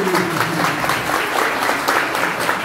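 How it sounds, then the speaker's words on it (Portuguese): An audience at a live show applauds, giving steady, moderately loud clapping with no break. "aplauso"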